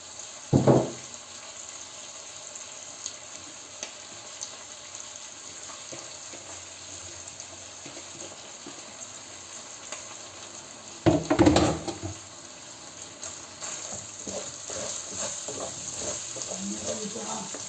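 Chicken liver sizzling in butter in a pan, a steady soft frying hiss throughout, broken by two brief louder clatters of stirring near the start and middle, with faint movement toward the end.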